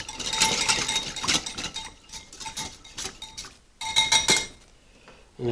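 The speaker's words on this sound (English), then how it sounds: "We're going to give it a good stir here." Spoon clinking against a dish while stirring sweet and sour meatball sauce, heard as a run of bright metallic taps and scrapes in uneven bursts, close and fairly loud, with a short pause midway.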